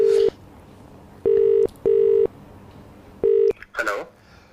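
Telephone keypad dialing tones sound during a phone prank call: four loud, clean beeps in an uneven sequence with short gaps, followed by a brief rustle at the end, no speech.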